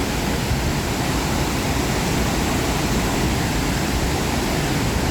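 Haew Suwat waterfall in Khao Yai National Park roars as a steady, dense wash of falling water, loud and unbroken throughout with no voices.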